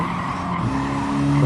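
Tires squeal and skid under late braking in the racing game Gran Turismo 7, a loud continuous screech over the car's engine drone that rises in pitch toward the end.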